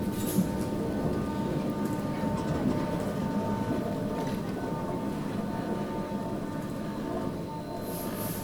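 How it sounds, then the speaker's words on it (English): A steady low rumble of a train slowly backing into a station, with continuous rolling noise and a faint squeal near the end. "the train backs into the station in order to be ready for the main platform"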